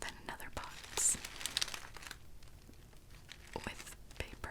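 Paper and plastic packaging from a well-wrapped parcel crinkles and rustles in short close bursts during a soft-spoken unboxing, with a few sharper crackles and quieter stretches between.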